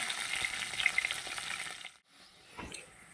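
Onions and green chillies fry in a pan with a steady close-up sizzle, briefly dropping out before the frying hiss resumes.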